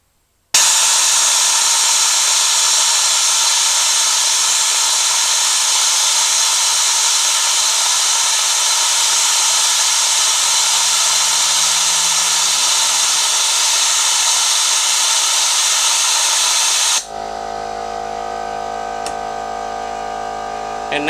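A Harbor Freight spark plug cleaner blasts a spark plug with a loud, harsh, continuous hiss that runs steadily for about sixteen seconds, then cuts off abruptly, leaving a quieter background hum.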